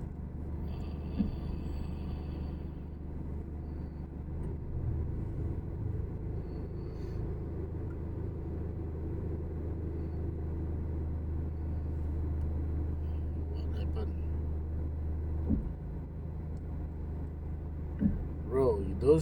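Car engine idling inside a vehicle stuck in a midnight traffic jam on the drive home, a steady low rumble continuing throughout with a few soft thumps, with people talking now and then.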